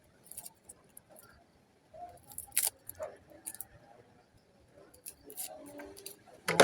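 Garlic cloves and an onion being peeled by hand in a home kitchen, giving scattered faint crinkling, papery rustles and small clicks with brief louder crackles, close by and quiet, with no talking.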